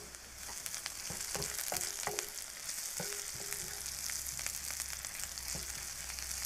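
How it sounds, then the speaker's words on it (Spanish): Onion frying in oil in a pan, a steady close sizzle with light scrapes and taps of stirring scattered through it. "Bueno, añado aquí la cebolla."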